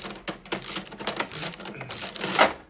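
A ratchet pipe cutter works around a brake pipe, giving a quick series of sharp, close clicks and ratcheting snaps in an irregular rhythm.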